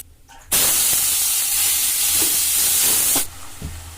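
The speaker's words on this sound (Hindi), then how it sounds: "ये आलू बचे हुए रखे हुए हैं तो देसी घी में बनाने लग रही हूँ।" Leftover potatoes with turmeric hit hot desi ghee in a pan, bursting into a loud, sharp sizzling hiss that holds for about three seconds, then cuts off abruptly, close up and without talking.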